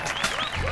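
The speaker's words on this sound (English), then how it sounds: "Give the man a round of applause." Brief burst of audience clapping and cheering in a podcast studio, loud and dense for under a second, with voices mixed in.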